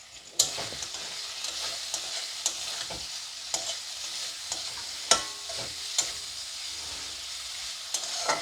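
Potatoes frying with turmeric and cumin powder in a pan on low flame, stirred with a utensil: a steady close sizzle with regular sharp scrapes and taps against the pan.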